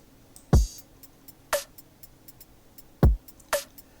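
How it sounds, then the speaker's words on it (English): A basic trap beat plays in Ableton: deep booming 808 kicks alternate with sharp snare or clap hits over light ticking hi-hats, in a steady two-bar pattern with no talking. "I've got a basic trap beat which sounds like this."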